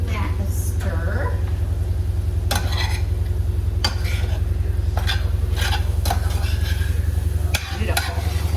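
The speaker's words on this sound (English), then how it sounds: "I'm gonna dump that into the meat. And we're gonna give that a stir." Meat stirred with taco seasoning in a pan gives a steady sizzle, with repeated scraping and clanking strokes of a utensil against the cookware at an uneven pace, close and fairly loud, and a voice talks over it in places.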